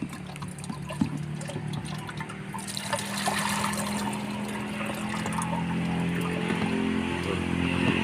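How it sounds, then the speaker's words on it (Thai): Water poured steadily into a container until it is full, a continuous rising liquid gush with a motor-like hum underneath, while mixing homemade plant fertilizer. "เราก็เทน้ำใส่จนเต็มนะครับ"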